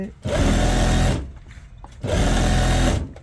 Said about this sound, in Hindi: जहाँ पे हमारी सिलाई चल रही है बिल्कुल वहाँ पे ही जाना चाहिए